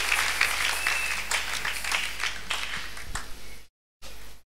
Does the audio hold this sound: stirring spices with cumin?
no